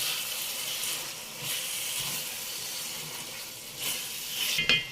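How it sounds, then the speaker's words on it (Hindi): Spices including garam masala and black pepper are stirred into dal mash frying in a pan, a steady moderate sizzle with swelling stirring scrapes and a brief clatter near the end. "इन सबको हमें अच्छी तरह मिक्स करना है।"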